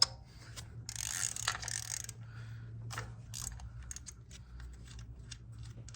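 A ratchet works a 10 mm bolt loose on a 2016 Toyota Camry engine, quiet rapid clicking bursts in short runs, close by and with no talk.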